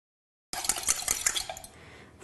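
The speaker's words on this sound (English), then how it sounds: "I'm going to beat two eggs in a separate bowl" Two eggs beaten in a jug: rapid clinking and tapping of a utensil against the container, starting suddenly, brisk and close, then easing off.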